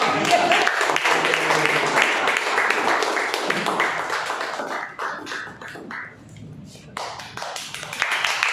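A round of applause from the audience at a Toastmasters club meeting, fairly loud at first and then thinning into scattered claps, with some talking mixed in.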